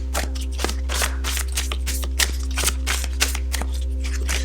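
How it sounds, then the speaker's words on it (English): Large-format tarot cards shuffled by hand, a rapid run of soft, close card flicks and rustles repeating at a steady pace over a constant low electrical hum. "A little bit tricky to shuffle these really large format cards though."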